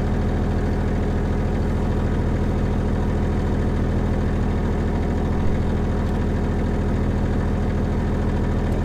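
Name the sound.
McRae Enduro rally car engine idling before the start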